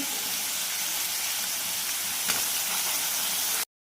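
Tomatoes, ground masala paste and onion sautéing in hot oil for a dry mutton dish, giving a steady, close, even sizzle with no talk that cuts off abruptly at the end.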